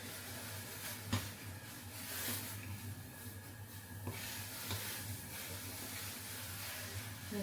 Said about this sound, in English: So my rice is actually boiling.